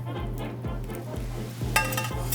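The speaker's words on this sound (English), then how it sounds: "I got about a cup of our syrup, put it over medium-high heat in a saute pan." Sliced peaches in a cup of syrup over medium-high heat in a sauté pan make a soft, bubbling sizzle, with a low repeating hum underneath and a brighter burst of hiss near the end.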